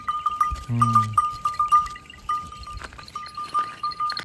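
Goats in the Karoonjhar hills of Nagarparkar give one clear, close bleat amid sparse clinks and light rustling, with no voices heard.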